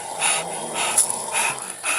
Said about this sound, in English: Don't stop fighting the dog.